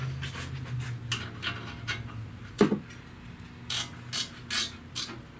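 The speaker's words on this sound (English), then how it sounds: "Torque back to spec." A torque wrench clicks and ratchets while tightening the brake caliper bolts on a 2016 Honda Pilot during brake service, with a handful of sharp, close clicks spread across several seconds and no talk.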